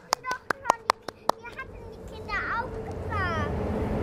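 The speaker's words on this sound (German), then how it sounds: "Applaus!" A few sharp hand claps ring out in a quick series during a children's morning circle, followed by children's voices and chatter in the background.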